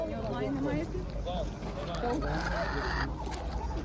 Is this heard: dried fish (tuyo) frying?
no